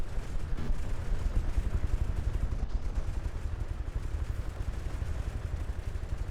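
A battleship in the game From the Depths firing hollow point shells, a dense rumbling barrage of booming shots rolling continuously, loud and low-heavy with no pauses.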